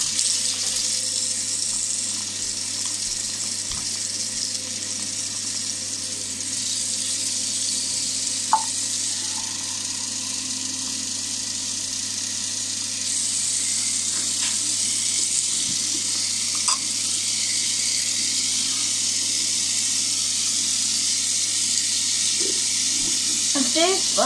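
A tap runs steadily for a long stretch, a broad constant hiss of water, while an adult and someone talk quietly nearby.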